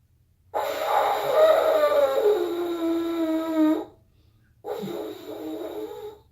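Beginner on a French horn producing two breathy, wavering buzzed tones, a long unsteady note followed by a short one after a brief pause, close and alone.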